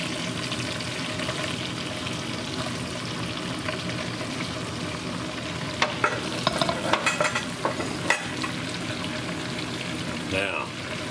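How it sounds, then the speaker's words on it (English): Bracciole meat rolls fry in a pan with a constant close sizzle, and a cluster of sharp utensil clinks and turning scrapes comes near the end. "just keep doing this till everything's fried up nice like you like it"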